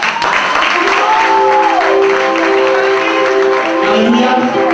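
A church congregation at a ministry school service applauds and cheers for God, a dense, steady wash of clapping and voices filling the room, with sustained tones from music or singing over it.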